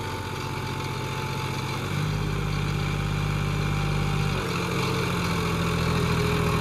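A John Deere 5210 tractor hitched to two harrows idles close by, a steady, loud diesel rumble with a low throbbing pulse that shifts pitch slightly partway through and holds on without pause.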